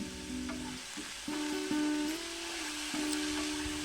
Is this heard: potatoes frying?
yes